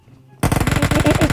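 Rapid automatic gunfire in PUBG Mobile, a loud burst of closely spaced shots starting abruptly after a quiet moment and continuing steadily to the end.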